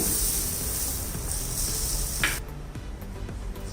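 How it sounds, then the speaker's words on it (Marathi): Butter melting and sizzling on a hot iron tawa griddle for a street-style veg frankie, a steady close hiss that drops in level partway through, with no talk. "आता इथे मी तवा परत तापत ठेवलाय, त्यावर आपण बटर लावूया"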